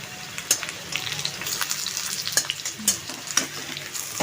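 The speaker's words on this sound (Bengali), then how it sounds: "তেলটা গরম হলে একটু আলুটা আগে ভেজে নেব" Potatoes fry in hot oil in a wok, a steady close crackling sizzle broken by sharp scrapes and clinks of a spatula at irregular intervals, with no talking.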